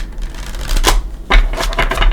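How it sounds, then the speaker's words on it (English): A Light Seer's tarot deck is shuffled by hand in a few quick, close riffling bursts, crisp papery flicks coming in short separate clusters with no talk over them. "Give it a couple shuffles."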